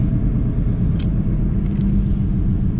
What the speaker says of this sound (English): it kind of does have a like a wheel bearing noise to it when you're driving